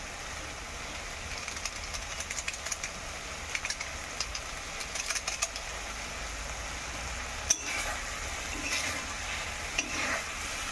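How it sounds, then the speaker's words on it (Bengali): Maggi noodles with masala being stirred in a pan over a medium-high flame: soft scraping and shuffling under a faint, steady sizzle, with one sharp knock partway through and no talk. "ভালোভাবে দিয়ে নাড়াচাড়া দিয়ে নেব।"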